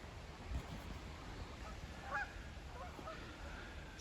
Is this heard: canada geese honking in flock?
yes